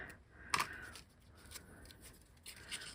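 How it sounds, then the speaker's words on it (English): Scissors cutting an angled edge into a piece of card make one crisp, quiet snip, close up, followed by faint soft rustling of paper, with no talking. "I do want to angle cut"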